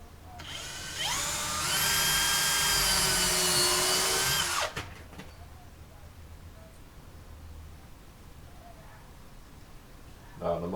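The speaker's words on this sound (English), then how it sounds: "So I will use a thin drill first, and then I'll use the thick drill" A power drill fitted with a thin bit bores a pilot hole for bolts while a broken wheelbarrow handle is being repaired. A loud, close, steady whine lasts about four seconds, then stops, leaving quiet handling noise.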